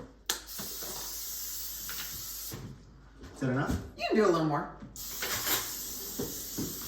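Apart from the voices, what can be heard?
spraying cooking oil spray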